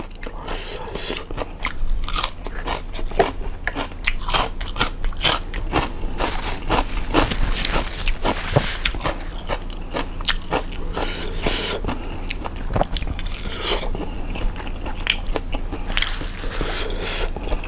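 Close, crisp bites and steady chewing of shrimp meatballs served with tamarind dipping sauce, with repeated crunchy bursts and moist squishing sounds running continuously throughout.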